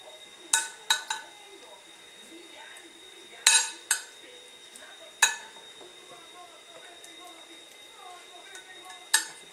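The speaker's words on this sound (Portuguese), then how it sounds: "Dá uma espalhadinha com a colher." A spoon spreads tomato sauce over a slice of sandwich bread for mini pizza, making scattered sharp clinks and taps against the dish. Faint soft scraping fills the quiet gaps between the taps.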